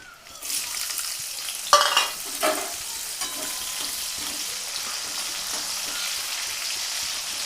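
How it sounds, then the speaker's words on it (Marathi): Green chillies drop into hot oil for sabudana khichdi with a sharp burst of spitting and crackling, then settle into a steady, even sizzle that carries on alone. "तेल गरम झालं आता आपलं आता यात हिरवी मिरची टाकते मी"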